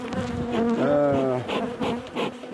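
Agitated honeybees swarm around beehives, a loud, dense buzzing that swells and shifts in pitch as insects fly close past, with no talk over it.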